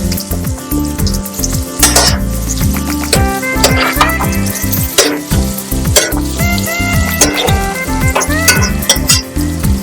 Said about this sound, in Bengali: এর মধ্যে আমি ভেজে রাখা ইঁচড় দিয়ে দেবো।